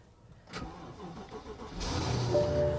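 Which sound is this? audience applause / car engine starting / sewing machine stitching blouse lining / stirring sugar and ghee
car engine starting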